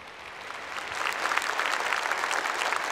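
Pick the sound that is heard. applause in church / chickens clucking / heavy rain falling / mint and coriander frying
applause in church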